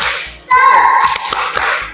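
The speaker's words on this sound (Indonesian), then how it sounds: "Tepuk semangat." A class of children does a rhythmic spirit clap in a classroom, sharp hand claps in an even beat alongside a loud burst of young voices chanting together.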